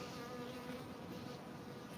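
Bees swarm and hum in a continuous, dense buzz, steady and fairly close, with no voices over it.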